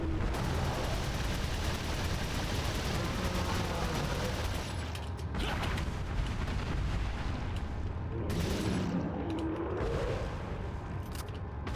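Resident Evil 4 gunfire comes as a dense, continuous barrage of booming shots and rumbling impacts. It stays loud throughout and is briefly interrupted by sharper bursts partway through.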